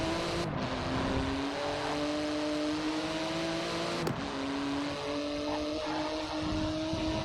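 A Porsche GT2 RS engine in Forza Horizon 4 drones steadily at moderate volume, its pitch holding and shifting slightly with one brief change mid-run.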